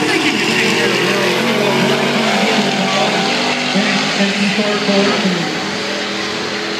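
A 2009 Pontiac G8 drag racing a truck at a drag strip, loud sustained engine roar with layered revving tones throughout, easing slightly near the end, with crowd voices mixed in.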